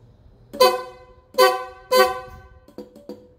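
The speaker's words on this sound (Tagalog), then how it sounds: "Kapag nagbusina ka, busina tayo." Three loud, sustained Yamaha NMAX scooter horn honks in a row, followed by two short quieter beeps, fairly close with little else around.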